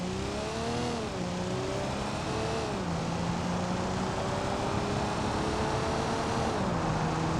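A BMW E36 in the BeamNG.drive driving game accelerates hard, its engine note climbing steadily through the gears with brief dips at each shift. The sound is loud and continuous, with no talking.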